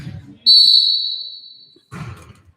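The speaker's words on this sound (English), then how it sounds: "We got a whistle, though." A referee's whistle at a senior boys volleyball match gives one long, loud, shrill blast that tapers off, framed by brief murmurs of talk before and after.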